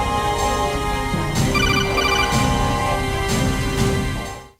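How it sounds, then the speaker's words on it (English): A telephone ringing in the Metal Gear Solid video game, its electronic ring repeating in even bursts about once a second, loud and close, then cutting off at the end. "You better get on this phone right here, Otacon."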